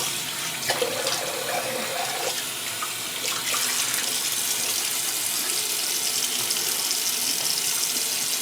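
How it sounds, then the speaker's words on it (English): Tap water running into a bathroom sink for rinsing after a shave, a steady close splashing stream with a few clinks early on, growing slightly fuller partway through. "Let me do a quick rinse."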